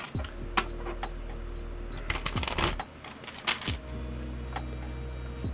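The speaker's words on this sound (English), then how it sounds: "I've shuffled this deck hundreds of times" A tarot card deck being shuffled by hand, giving a run of soft, papery riffles and quick flutters close by, with brief pauses between bursts and no talking.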